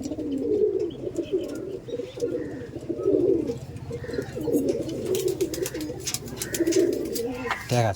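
Pakistani teddy pigeons at a home loft, cooing in repeated rolling bursts close by, with occasional chirps and a person talking over the birds at times.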